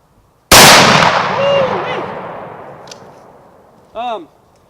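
A Remington 870 home-defense shotgun fitted with a Kicklite recoil-reducing stock fires a single loud, close blast that rings out and decays, followed by a brief metallic clack of the action.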